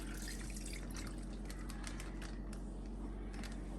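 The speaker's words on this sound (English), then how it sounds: "then we take our brine that we made and we're just gonna dump it in our" Brine poured into a bag of elk meat for jerky, a faint, close liquid splashing and trickling with scattered drips, steady throughout.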